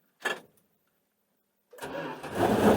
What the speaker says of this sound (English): when I start the car up, it'll get loud